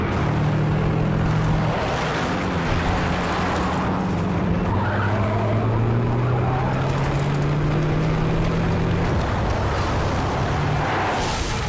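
A heavy truck engine in a video game drones and revs continuously, pitch climbing gradually, with tire skids and rumbling noise throughout.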